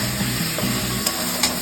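Fish and potato curry sautéing in a pan before water is added, with a continuous close sizzle, a soft recurring hum and a couple of light spatula taps over about two seconds.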